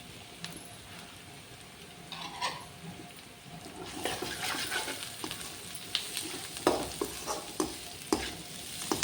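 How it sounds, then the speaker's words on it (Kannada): Capsicum and carrot stir-frying in a pan for egg fried rice, a steady sizzle broken by repeated scraping stirs that grow busier toward the end, close and moderately loud, with no voices. "ಈಗ ಕ್ಯಾಪ್ಸಿಕಮ್ ಮತ್ತು ಕ್ಯಾರೆಟ್ ಹಾಕ್ತೀನಿ"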